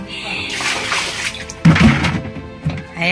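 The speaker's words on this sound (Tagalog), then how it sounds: "mag-igib muna tayo ng tubig" Water pours and splashes into a container while it is being fetched, a continuous close gushing that sloshes and surges partway through, with no talk over it.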